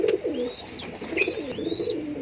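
Pigeons coo close by in a fancy pigeon loft, a continuous rolling, throaty murmur with a few higher chirping calls layered over it.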